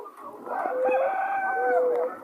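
A rooster for sale at a poultry market in Erzin, Hatay, crows once, loud and close, a long rising and falling call.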